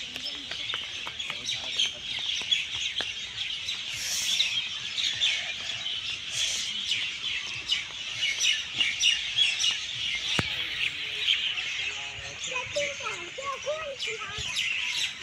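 Birds chirp and tweet steadily in a wooded city forest in Ghaziabad, a dense chorus of high calls running throughout with a voice heard faintly at moments.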